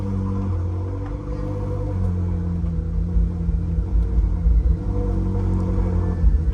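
A Ferrari 458 Spider idles while warming up, a steady low engine rumble with a mildly fluctuating tone running evenly throughout at close range.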